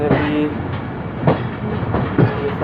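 A train at Mach railway station in the Bolan valley, a loud steady rumble of wheels with a few rhythmic clacks over the rails, close by.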